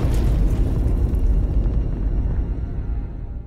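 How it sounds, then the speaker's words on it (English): A grenade goes off in a dramatized Battle of Iwo Jima recreation, one loud deep blast with a rumbling tail that slowly dies away, heard alone with no talk. "and then the grenade went off."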